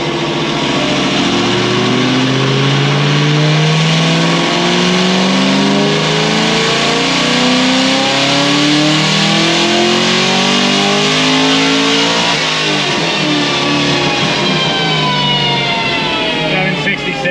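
A Procharger-supercharged car engine on a dyno climbs through a long, loud full-throttle pull, revs rising steadily with whining harmonics, then easing off near the end.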